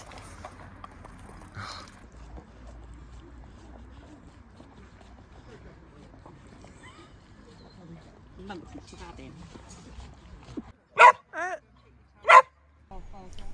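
Speech and background noise on a canal boat, then a dog gives two sharp, loud barks near the end, close by.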